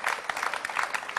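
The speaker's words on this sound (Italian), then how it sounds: "L'applauso viene fatto anche per circostanza" Scattered audience applause during an Italian on-stage conversation, a short burst of clapping at moderate level that stays fairly steady without a clear peak or fade.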